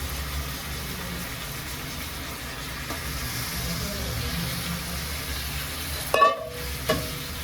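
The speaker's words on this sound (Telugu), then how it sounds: "మొత్తం ఇట్లా దగ్గరకు వచ్చాక చికెన్ వేసి కలుపుకుందాం" Chicken pieces fry in onion paste in a pan, a steady soft sizzle with occasional stirring scrapes and a sharp clatter of the utensil near the end.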